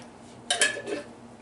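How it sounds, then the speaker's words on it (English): A jar holding sauce with a couple ounces of water and spices is shaken briefly in a kitchen, giving a short burst of close sloshing and glassy clatter, with no talking. "Give her a little shake."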